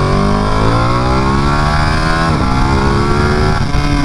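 Ducati Panigale 959 L-twin motorcycle engine revving loudly and steadily up close, its pitch climbing in smooth sweeps with harmonic layers rising through the rev range, no voices over it.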